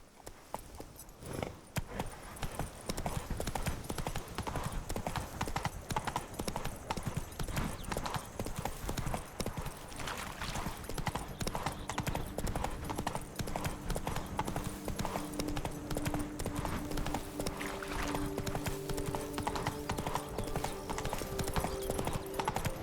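Horse hooves clip-clop steadily throughout a Witcher 3 game scene, a continuous walking rhythm with occasional whinnies, mixed with background game music and ambience.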